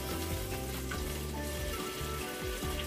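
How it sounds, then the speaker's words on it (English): Blue crabs stir-frying with ginger and garlic in a hot pan, giving a steady dense sizzle and frying crackle, close and continuous with no talking. "we are cooking stir-fried crabs with ginger and garlic"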